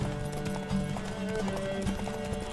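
Ciri's horse gallops in The Witcher 3, a steady rapid clip-clop of hooves running continuously and close under dense game music and ambience, with no clear talk.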